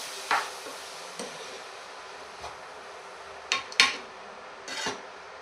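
A spoon stirs corn with masala powder and ground pepper in a pan for a corn masala roast, giving a few sparse, light metallic clinks and scrapes against a quiet background.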